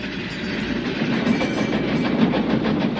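A train rolls steadily along rails with a continuous rumble and faint rhythmic clatter, close and fairly loud throughout, with no voices.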